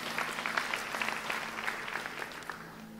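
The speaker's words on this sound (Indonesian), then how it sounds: "Berikan tepuk tangan bagi nama Tuhan." Steady applause from a church congregation fills the space, dense and continuous with a faint tonal hum beneath, no voices rising above the clapping.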